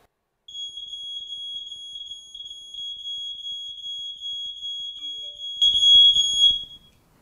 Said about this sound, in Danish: alarmlyd detekteret i køkkenet